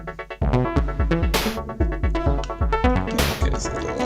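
Full modular synthesizer patch sent to a mix, with a deep pulsing bass line, bright sequenced tonal notes and sharp bursts of noisy hits twice; loud, continuous and rhythmic, with no talking.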